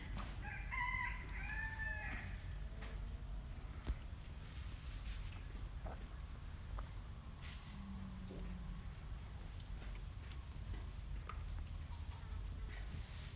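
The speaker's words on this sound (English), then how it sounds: "Hey, chicken." Chickens clucking and a rooster crowing in a rural yard, with an early crow and scattered soft clucks over a low steady background rumble, fairly distant and quiet.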